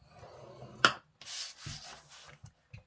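A scoring tool is drawn across paper while making a small triangle gift box, producing a few short, close dry scraping strokes with brief pauses between them and no talking.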